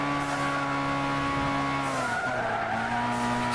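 Engine of a turbocharged car driven in Gran Turismo 6, a steady loud harmonic drone with a whistling turbo tone, dipping and shifting pitch midway as tires squeal and skid; no talking.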